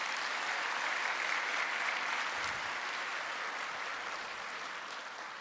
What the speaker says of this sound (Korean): 진심으로 감사의 박수를 한번 올려드리도록 하겠습니다